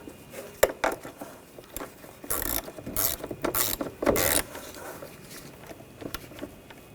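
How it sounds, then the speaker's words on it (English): A hand ratchet tightens a battery terminal nut on a Chevrolet Colorado, giving irregular bursts of clicking and rubbing strokes, fairly close and quiet, with pauses between the turns. "Tighten down the nut."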